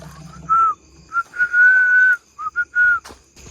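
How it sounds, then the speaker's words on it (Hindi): A person whistles in a very old graveyard at 2 AM: a near, clear run of short and long pitched notes with pauses between, alone against quiet night air. "भाई सीटी बजाना था"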